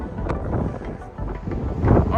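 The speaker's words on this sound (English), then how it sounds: "it is extremely windy up here" Strong wind buffets the microphone at a hilltop hiking vista overlooking a dried-up lake in Arizona, a loud fluctuating rumbling roar with gusts rising and falling over two seconds.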